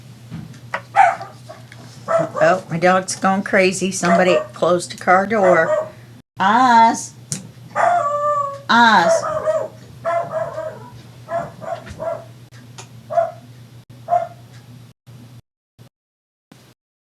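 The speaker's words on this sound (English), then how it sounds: "Oh, my dog's going crazy." A dog barks repeatedly in short, sharp bursts close by, mixed with a person's talk over a steady low hum before things go quiet.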